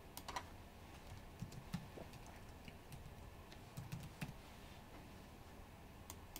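Answer options are being typed into a Google Forms survey on a computer keyboard, with light, quick keystrokes in uneven bursts and short pauses, close but soft, and no voices.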